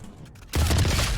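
Gunfire from the video game Valorant erupts suddenly after a quiet moment, a dense close volley of shots that continues loud to the end.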